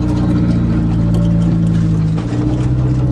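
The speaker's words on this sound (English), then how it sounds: "the Turbo Aries wagon has no trouble pulling all this stuff" A Dodge Aries Turbo wagon engine pulls a loaded trailer of scrap air conditioners, giving a steady, close, low droning hum that holds even for the whole stretch, with no talking.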